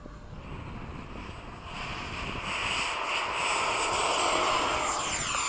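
FMS Avanti RC model jet taking off at a flying field, its ducted-fan whine building and growing louder over a few seconds amid wind noise, with no voices.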